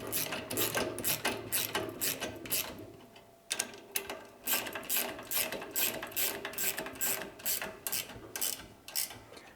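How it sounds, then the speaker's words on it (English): A ratcheting wrench clicks in quick bursts while tightening bolts on an onion bulb planter being assembled. It is close and fairly quiet, with one short pause partway through. "with a 213 wrench, you just tight those two bolts."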